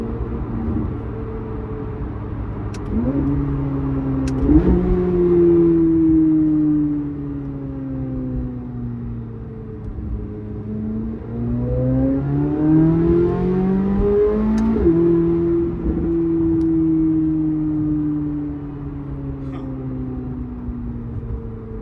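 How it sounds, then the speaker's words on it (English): A C8 Corvette Z06 engine with ported 91mm throttle bodies revs up and settles repeatedly, rising and falling in pitch, with a few sharp crackles from the exhaust; no talking. "getting a little more pops out of the exhaust than usual too."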